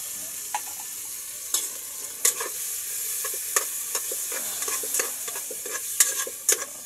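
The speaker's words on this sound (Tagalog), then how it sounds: "Halo-haloin natin guys." Ground meat sauce for spaghetti is stirred in a frying pan, with irregular scraping knocks from the utensil over a steady soft sizzle, heard close up without talk.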